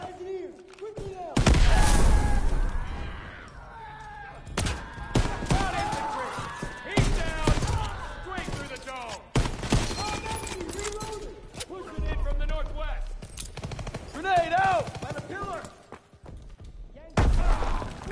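Bursts of rifle fire and impacts in the World War II shooter Call of Duty WW2 rattle through a busy battle scene, repeated loud volleys mixed with shouted voices.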